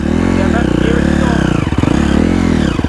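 A four-stroke dirt bike climbs a hill with its engine labouring hard, a loud, close, rising and falling engine note, with speech mixed in.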